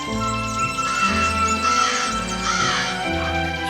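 Crows cawing in repeated harsh calls over a busy, continuous background bed, opening a Thai animated fable about crows and a serpent.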